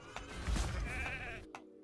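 Sheep bleats from a video game, a wavering bleat standing out over game sounds, followed by a short second burst near the end.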